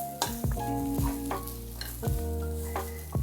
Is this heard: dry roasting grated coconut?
yes